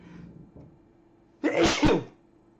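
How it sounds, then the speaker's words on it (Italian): Two sharp, loud sneezes burst out close together after a quiet moment with faint low background hum. "I miei soliti tre starnuti"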